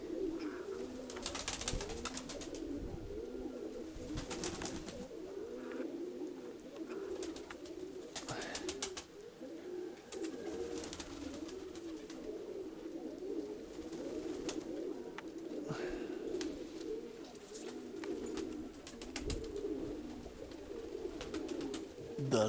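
Pigeons coo repeatedly in a steady, low murmur, fairly close, with faint background noise and occasional sharper sounds.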